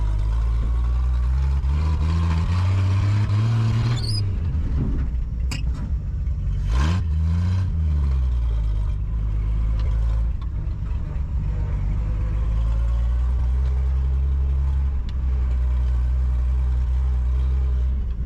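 A 1950 Chevrolet Deluxe with newly done brakes drives around the block: the engine hums and rises in pitch as it accelerates and shifts, with a few clunks and a sharp squeak midway, and the loud, steady cabin drone continues throughout.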